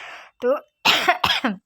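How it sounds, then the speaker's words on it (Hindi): A woman with a faltering, hoarse voice coughs several times in short, close bursts at home, with a brief spoken word among them. "खांसी भी हो रही है।"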